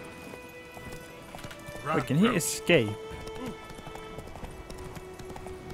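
A merchant's horse in The Witcher video game trots with a short burst of clip-clop hoofbeats, a brief close flurry and then a second quick one, under a person talking.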